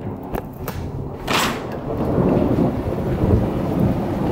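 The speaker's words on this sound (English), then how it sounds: "whoa, that is some serious thunder." A long, heavy roll of thunder that builds and rumbles on loudly, with rain falling steadily in the background.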